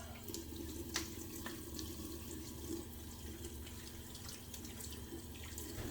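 Water runs steadily from a tap into a sink during a wet shave, a constant close hiss and splash with faint drips and small clinks over it, no talking.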